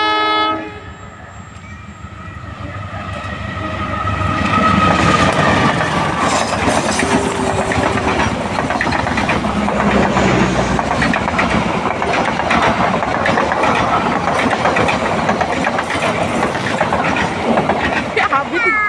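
Several trains pass close by, a loud, steady rumble of wheels and rail noise with a horn near the start, and people talk over it.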